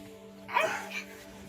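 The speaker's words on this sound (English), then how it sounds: "Oh, a little doggo on the bottom." A small dog lets out a single short bark close by, partly over a steady low hum.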